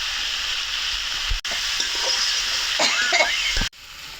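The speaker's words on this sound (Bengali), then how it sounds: "এখন টমেটো পেঁয়াজ এগুলো তেলে কষাইতেছি" Tomatoes and onions fry in hot oil in a pan, giving a steady close-up sizzle broken by brief scraping stirs, with no talking.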